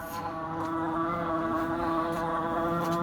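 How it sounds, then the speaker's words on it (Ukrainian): A steady, continuous insect buzz, like a bee, droning close and loud without pause for the whole stretch. "Бджола жужить навіть."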